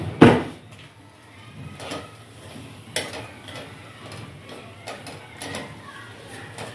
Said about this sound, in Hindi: हाँ, आप रिकॉर्ड करो, मैं मिलाती हूँ।